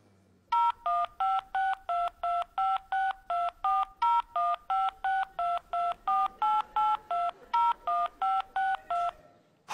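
Telephone keypad tones enter a long number as a rapid, even run of about twenty-five short two-note beeps, crisp and close, with no voices.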